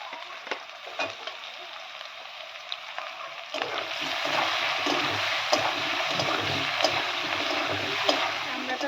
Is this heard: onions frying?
yes